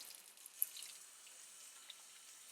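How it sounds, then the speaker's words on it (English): Warm water runs from a tap while suds are rinsed off hands, a faint, steady hiss with a few small splashes, heard alone. "make sure that we're not going to scald ourselves on the now rather warm water"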